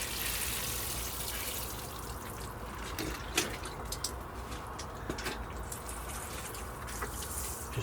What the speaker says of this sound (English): Just been watering them down there, these hanging baskets